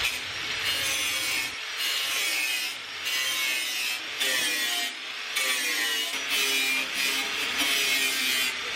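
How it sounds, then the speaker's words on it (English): Grinder working down the widebody fender lip on a Nissan 240SX, a loud, close, continuous rasping grind broken by brief pauses and changes in pressure, with no talking. "we're gonna go ahead and start grinding down this lip"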